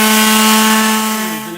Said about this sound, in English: On a surface like this, an orbital quarter disc sander is going to do an awesome job.